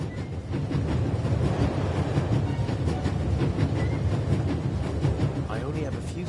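A train rolls along its tracks in the video game Raven Remastered, giving a continuous loud rumble with rhythmic clickety-clack and hiss, close and steady throughout.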